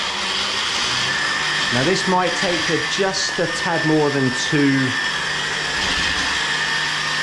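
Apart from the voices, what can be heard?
blender blending strawberry protein shake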